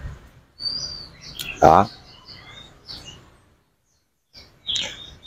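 A caged red-whiskered bulbul gives short, bright chirps and warbling notes in scattered bursts with gaps of quiet, while someone briefly speaks nearby.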